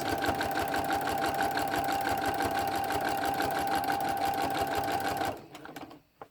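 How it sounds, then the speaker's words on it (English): A sewing machine runs a steady, continuous stitch of a 1/4 inch seam through quilt binding and all the quilt layers, loud and close, then stops abruptly near the end, leaving faint handling noises. "I am going to do a 1/4 inch stitch, seam allowance, through all those layers"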